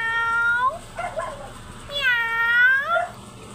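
A cat meows twice, the second call longer and drawn out, close by with faint background noise.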